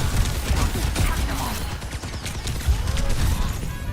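Gunfire in the video game Overwatch, a dense chaotic clatter of rapid shots and impacts mixed with game effects, loud and busy throughout with a voice in the mix.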